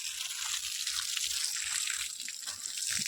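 Water pours and splashes to bathe cows, a continuous close hissing rush with a faint low thumping underneath.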